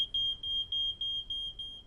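A domestic smoke alarm sounds alone, emitting a steady high-pitched electronic tone pulsed in quick, regular beeps across the whole short stretch.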